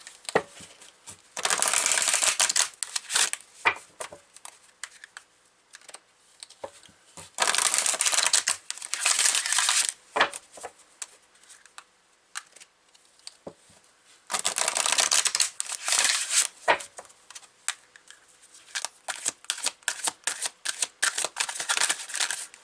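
Tarot and fairy oracle cards are shuffled in several crisp, riffling bursts separated by pauses, followed by scattered light flicks and taps as cards are drawn and laid down, all close and fairly loud.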